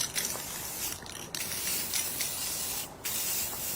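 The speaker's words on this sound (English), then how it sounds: "we're now going to spray paint it." Hissing bursts of an aerosol can spraying matte black paint onto a basket, mostly continuous with brief pauses between sprays, close by and with no talking.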